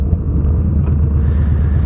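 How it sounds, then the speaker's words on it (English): A Yamaha Bolt motorcycle riding over a bumpy road gives a loud, steady low rumble of engine and wind that fills the short stretch, with faint bumps and no talk. "This is a bumpy road."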